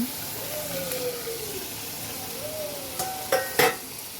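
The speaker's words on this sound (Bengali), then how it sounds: "আমি টমেটোটা ছেড়ে দিচ্ছি" Tomato hits hot oil for a rohu fish bhuna, and a steady moderate sizzle runs throughout, with a few sharp utensil clinks near the end.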